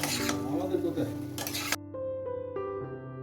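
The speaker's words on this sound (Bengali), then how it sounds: "আলু দেওয়ার পরে ভালো করে নেড়ে চেড়ে নেব যাতে মশলার সাথে আলুগুলো খুব ভালোভাবে মিশে যায়" Fried potatoes being stirred into masala in a pan for a Bengali fish curry, with scraping and light sizzle for over a second before a sustained tonal hum takes over the rest of the clip.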